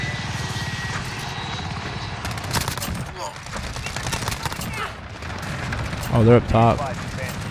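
Gunfire rattles through a Modern Warfare multiplayer match, where a player runs a Bizon submachine gun, as steady bursts under a game soundtrack and hum, with players talking over the action near the end.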